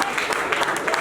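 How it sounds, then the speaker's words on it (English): Audience at a regional award ceremony for nurses and midwives claps, a brief, moderately loud patter of many hands with uneven bursts, while a voice speaks over the applause. "You are clapping."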